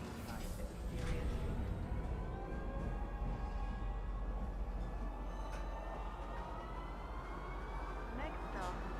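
A train passing in Star Citizen, a sustained low rumble with whining, screeching tones that rise and fall, while a voice talks over it.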